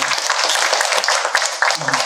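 Encouraging applause from a congregation at a church prayer breakfast after a musical offering, a busy patter of clapping with sharper individual claps standing out, while a voice speaks over it near the end.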